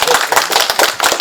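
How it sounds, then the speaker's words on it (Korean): An audience at a lecture forum claps close and loud, a quick run of sharp individual hand claps in uneven rhythm, briefly and without speech. "박수 한번 쳐주시오."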